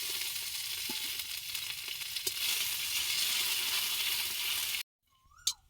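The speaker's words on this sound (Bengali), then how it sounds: "থেতো করা আদাটাও দিয়ে দেবো তেলে।" Cumin seeds and crushed ginger sizzle in hot oil as a tempering for mung dal with ash gourd, a loud continuous hiss with small pops and utensil ticks, then the sound cuts to near silence.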